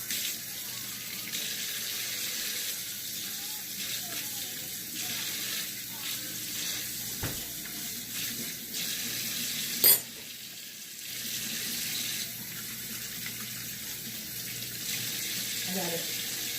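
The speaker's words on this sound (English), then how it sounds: "I'm gonna wash my hands." Kitchen tap running steadily while hands are washed at the sink during a garlic honey chicken thigh cook, a continuous close wash of water with a brief clatter near the middle.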